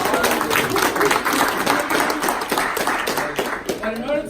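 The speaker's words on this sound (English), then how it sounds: "Give yourselves a round of applause." An audience claps in a round of applause at a workplace motivational talk, a lively clatter of many hands under and around voices that carry on over it.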